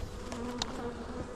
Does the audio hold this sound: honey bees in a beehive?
yes